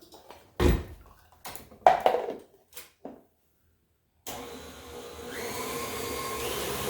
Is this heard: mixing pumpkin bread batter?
yes